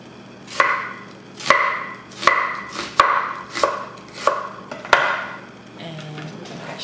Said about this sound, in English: Let's start with the cutting vegetable and octopus before I make sauce, and let's start with the onion.